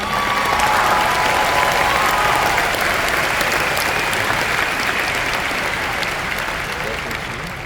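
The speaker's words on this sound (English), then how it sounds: "Can we give him another round of applause?" A large audience at a University of Hawaii at Manoa commencement claps in a loud, sustained roar of applause that tapers slightly toward the end, with faint voices mixed in.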